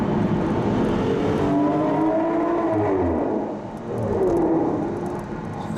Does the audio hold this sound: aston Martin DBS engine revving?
yes